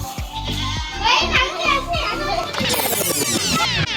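A goat bleats several times in a village setting during an Ugadi festival visit, its wavering calls mixed with children's chatter and playful shouting close by.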